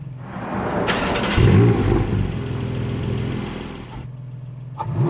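A Porsche 718 GT4 with PDK fires up with a sharp starter catch and a loud burst of revs, then settles to a rough, steady idle close by before cutting off.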